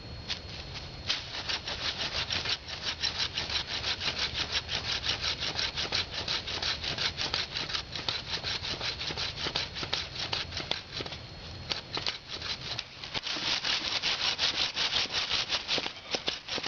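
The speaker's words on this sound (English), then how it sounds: "I think we're going to go ahead and use the Gerber collapsible saw for this particular activity" A Gerber collapsible hand saw cuts through wood close to the ground outdoors, a fast rhythmic rasping of back-and-forth strokes sustained throughout, close and steady with brief pauses.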